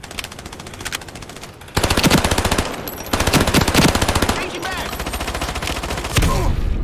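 Submachine gun fire in a first-person shooter video game, long rapid automatic bursts separated by short pauses, loud and close, with a voice talking faintly underneath.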